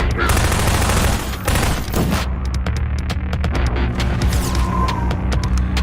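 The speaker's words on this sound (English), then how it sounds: "nothing like gunfire to put me to sleep" Rapid bursts of gunfire, loud and sharp, rattling in quick volleys that thin into scattered individual shots.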